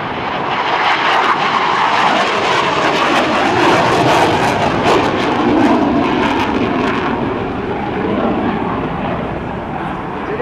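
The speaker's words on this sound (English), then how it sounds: "the F-4 Phantom II." F-4E Phantom II jet roaring overhead at an airshow, a loud continuous broadband engine rumble and hiss sustained throughout, fading only slightly toward the end.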